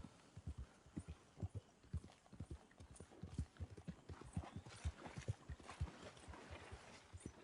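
Horse hooves clip-clop in a steady, fairly close rhythm through Red Dead Redemption 2, with a low hum running underneath.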